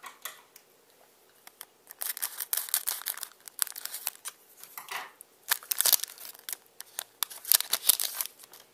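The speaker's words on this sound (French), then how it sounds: "Je vais ouvrir le deuxième pack." A Dragon Ball Heroes trading card pack being torn open by hand, with close crinkling foil and sharp tearing bursts in irregular clusters, starting quietly and growing busier, with no talking.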